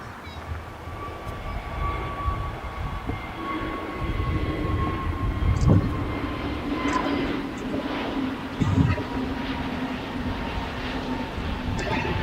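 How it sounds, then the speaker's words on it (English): An Avianca Airbus A320-251neo jet departing LAX makes a broad, steady engine roar with low rumble that swells slightly toward the middle. It is heard from a distance across the airfield and there is no talking. "just departing here on the Q5s on the south side is Avianca Airways"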